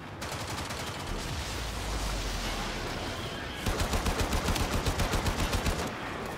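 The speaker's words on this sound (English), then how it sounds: "I'm getting shot at, but it's alright." Enemy gunfire in the Warframe co-op video game on Xbox One, a steady rapid machine-gun rattle that swells louder in a rhythmic burst near the end, dense and continuous with little talk.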